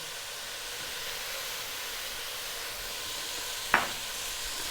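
Spiced Indian vegetable soup stirred in a pot over high heat, a steady soft sizzling hiss throughout with one brief sharp scrape of the spoon near the end.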